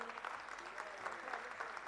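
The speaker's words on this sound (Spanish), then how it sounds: "El aplauso para todos ellos." An audience at a university anniversary ceremony applauds teachers honoured for 25 years of service, with faint, distant clapping in a continuous patter and some voices mixed in.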